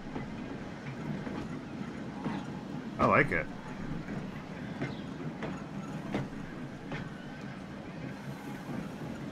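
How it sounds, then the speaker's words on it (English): A tram runs along its track in the game Transport Fever 2, a soft rolling rattle with light clicks and one brief louder clatter, heard faintly in the background while a person speaks briefly. "Some nice looking tram."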